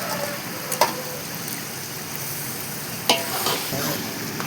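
Garlic and ginger frying in oil in a large pot for a big-batch vegetable biryani on a gas stove, a steady close sizzle with a couple of brief clanks of a stirring spoon.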